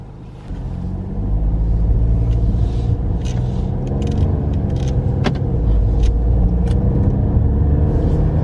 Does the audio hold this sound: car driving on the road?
yes